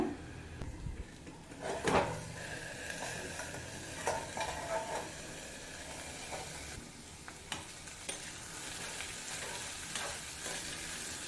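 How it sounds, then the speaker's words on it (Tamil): Green beans are stirred in a pan while cooking over a low flame, sizzling softly with scattered scraping clatters of the spoon and a lid or pan knocking at a few moments. "அப்பப்போ ஓப்பன் பண்ணி இந்த மாதிரி கிண்டி விட்டுக்கோங்க"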